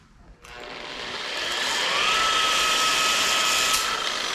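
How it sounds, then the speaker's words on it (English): A Makita buffer with a wool pad spins up from a click into a rising, steady high whir, loud and close, holding at speed for several seconds with no voices. "We're going to take a Makita buffer and a wool pad"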